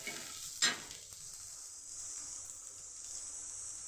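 Green chillies go into browned onions frying for a spicy mutton curry, a sharp burst of stirring near the start, then a steady quiet hiss of sizzling oil.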